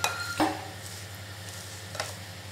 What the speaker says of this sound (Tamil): ஸ்டவ் ஆஃப் பண்ணிவிட்டு நம்ம இப்போ அதில் இதை நல்லா கிண்டிடுங்க.